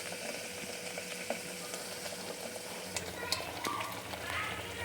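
Masala sautéing slowly over a low gas flame with browned onion for Rajkot's famous tava dish, a soft, steady sizzle with occasional light stirring clicks, close by and fairly faint.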